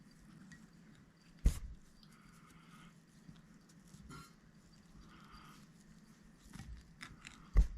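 Scissors snip fly-tying material on a caddis larva trout fly, two or three sharp close clicks spaced apart over quiet handling noise.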